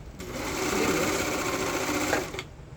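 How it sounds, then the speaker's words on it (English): A serger sewing machine runs steadily for about two seconds, a close, even mechanical whir with no talk over it, starting and stopping cleanly. "You can serge right over a pass line."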